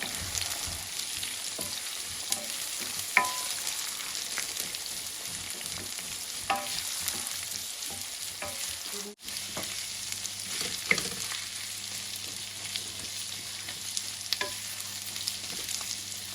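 Food fries in oil in a pan with a steady, close sizzle, broken by a few soft stirring scrapes and clicks and no talking.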